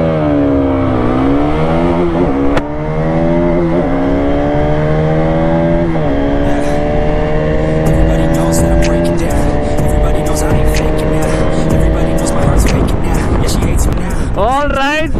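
Bajaj Pulsar RS200 BS6 and Pulsar 220F BS4 motorcycles revving and accelerating hard in a short drag race on a forest road, engine pitch climbing through repeated gear shifts, loud and close, with voices talking over it.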